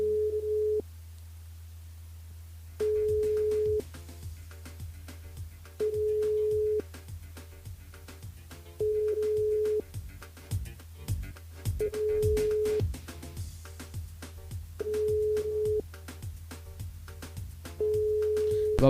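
A telephone line rings out unanswered during a live radio broadcast: a steady tone in regular repeated bursts with gaps between them, going on for the whole stretch, with faint background noise.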